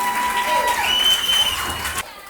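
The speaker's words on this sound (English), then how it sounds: "So a round of applause for them." An audience at a school quiz competition applauds the teams, a moderate spread of clapping mixed with a voice and faint tonal sounds, cut off abruptly near the end.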